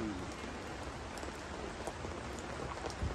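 Steady outdoor rain falls, a dense, even hiss of drops that continues unbroken from start to finish at a moderate level, with no voices.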